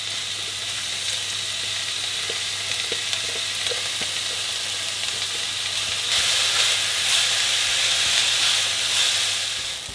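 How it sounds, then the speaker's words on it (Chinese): Chopped onion stir-frying in scallion oil over medium-low heat in a wok, a steady close sizzle and hiss that swells louder partway through, with occasional soft stirring clicks. "加入20克葱油，把洋葱末倒进锅里翻炒10分钟"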